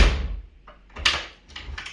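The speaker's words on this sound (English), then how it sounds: "the door even closes." An interior door fitted with a new mortise handle swings closed. Its latch clicks and the door thumps briefly at close range, and softer rattles follow.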